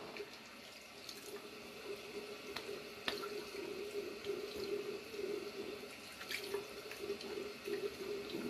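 Warm water runs from a tap in a steady stream while soap is rinsed off after a razor shave, a soft continuous splash with a few faint clicks and drips, heard close and fairly quiet.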